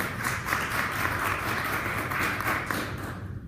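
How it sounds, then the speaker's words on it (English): A round of applause from an audience at a family gathering, steady clapping from many hands that continues throughout before tapering off at the end. "So we give them a big round of applause for that."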